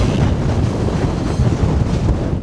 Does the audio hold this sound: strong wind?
yes